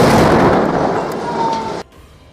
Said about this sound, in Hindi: उसके लड़ाकों ने उस आईईडी को डेटोनेट कर दिया